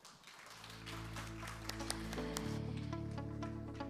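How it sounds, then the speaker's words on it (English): A conference audience applauds two presenters with steady, sustained clapping in a hall, while a sustained musical tone rises underneath. "let's give another big round of applause to two presenters"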